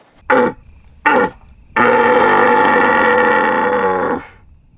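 An angry stag's call, imitated by a human voice through a deer-call device, comes as two short rasping bursts followed by one long, loud, bellowing roar close to the device.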